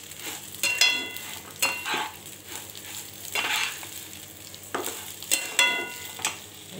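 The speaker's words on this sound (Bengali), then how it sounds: "এবার চালটাকে ভালো করে নাড়ব।" Gobindobhog rice being stirred with spices in a pot, a series of scraping spoon strokes with soft sizzling in between, close and clear with no talking.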